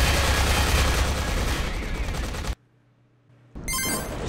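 Dense burst of automatic gunfire from the video game Consortium rattles loudly for over two seconds, cuts to near silence for a second, then resumes with a sharp, bright volley.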